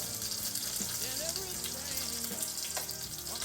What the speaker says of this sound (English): So I'm just caramelizing this right now to get the flavor out.